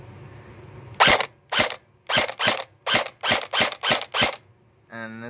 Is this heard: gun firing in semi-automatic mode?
yes